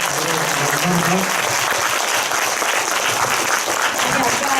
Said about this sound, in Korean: 김원민 감독님께 큰 박수 한번 더 드리면서 감사합니다